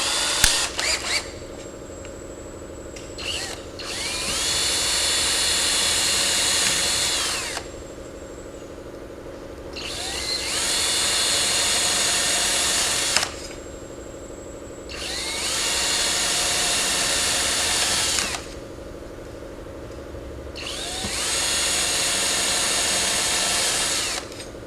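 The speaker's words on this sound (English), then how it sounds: "A number 40 drill bit." A power drill with a number 40 bit bores pilot holes through a fuel cap retaining ring during a 13-gallon fuel tank retrofit on an S7, running in four sustained bursts of several seconds each, with brief pauses between them.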